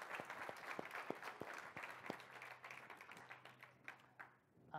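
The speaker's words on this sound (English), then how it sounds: "let's give Alan a round of applause" Applause from a DevOps Days conference audience after a talk on Mesos in production: scattered, fairly faint clapping with distinct individual claps that slowly fade, plus a low hum underneath.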